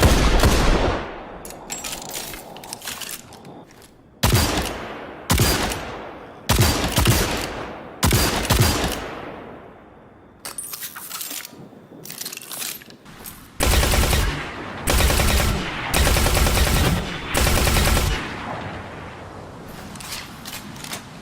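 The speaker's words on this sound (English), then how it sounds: "you can really hear all the small details of this gun firing, from the blast itself to the mechanical sounds of the gun and the bullet cases falling to the ground" Automatic gunfire in the video game Destiny 2: bursts of rapid shots with mechanical clicks and shell casings clinking down, loud and close, separated by short pauses, with no talking.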